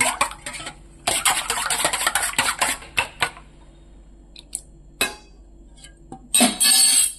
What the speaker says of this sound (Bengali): নুনটাকে ভালো করে ফেটিয়ে নেব।